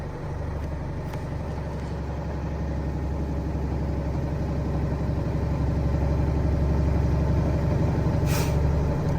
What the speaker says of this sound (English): there's my governor cut off. That means my air governor is working properly.